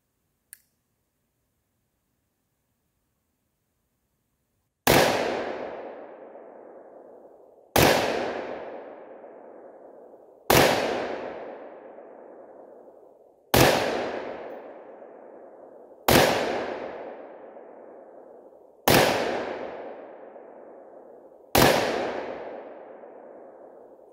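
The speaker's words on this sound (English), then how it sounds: "I love the sound of a 357 mag." Seven loud single shots from a Coonan 1911 .357 Magnum pistol, fired outdoors at a slow, steady pace about three seconds apart, each a sharp crack with a long ringing decay, after a brief faint click.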